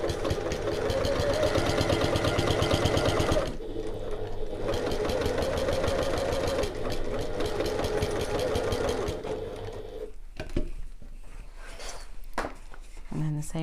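A sewing machine runs close and loud, stitching a tote bag in long continuous runs of rapid needle clatter, with short breaks as it stops at corners and then starts again.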